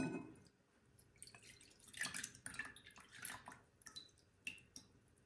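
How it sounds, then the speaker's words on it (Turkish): A cooled turmeric powder mixture is strained, giving soft scattered drips and light liquid trickles over several seconds, faint and close, with no voices. "Şimdi süzüyorum."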